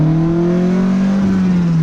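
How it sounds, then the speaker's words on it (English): A car doing a burnout on tires filled with a million Orbeez, the engine holding a loud, steady high-revving drone with rising pitch, close and continuous throughout. "I think the real test will be the burnout"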